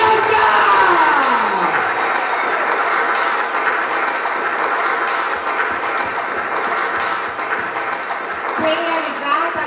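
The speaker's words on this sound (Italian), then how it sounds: "Vogliamo accoglierla con un grandissimo applauso, Miss Butterfly 2022, lei Bianca!" Crowd applause at a Miss Butterfly 2022 event in a club, a dense, steady clapping that carries on throughout at close range, with a background tone sweeping down at the start.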